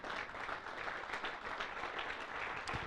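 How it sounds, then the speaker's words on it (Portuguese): A congregation in a church service claps together in sustained, dense applause that fills the whole stretch, close and even, with no speech over it. "Forte aplauso ao Senhor Jesus."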